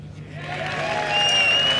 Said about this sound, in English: Takes the applause in his stride.